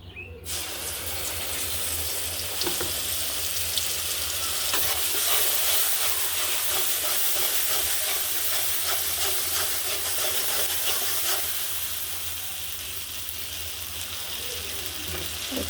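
Onion and garlic paste fries in a pan with a steady, loud sizzle that keeps going under occasional stirring scrapes, and no one speaks.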